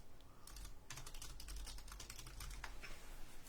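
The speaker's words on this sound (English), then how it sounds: "I'm typing it in to see if it's a rookie." Quick bursts of keystrokes on a computer keyboard, close and fairly quiet, clicking in an irregular rhythm with no talk.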